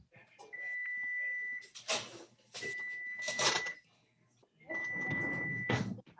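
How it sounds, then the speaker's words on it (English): A kitchen timer beeps in three sustained, steady electronic tones, each roughly a second long, with short gaps between them, sounding moderately loud amid kitchen clatter and people talking. "I hear the timer."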